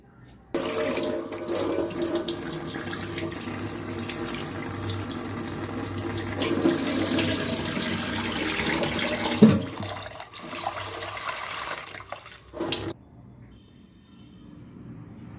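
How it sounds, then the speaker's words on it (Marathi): Tap water runs steadily into a sink while half a kilo of prawns is washed, a continuous splashing flow with a small clatter partway through before the tap stops. "हे मी अर्धा किलो कोळंबी घेतलेत ते आता जरा धुवून घेणार आहे"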